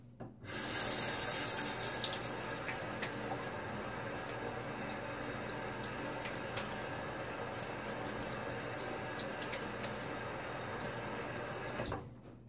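A Gillette Rocket HD safety razor is rinsed under a running tap into a sink, steady close splashing water that starts abruptly, runs about eleven seconds with small clinks, then stops.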